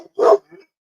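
A dog gives one loud, close bark, followed by a fainter short yip a moment later, with no other sound around it.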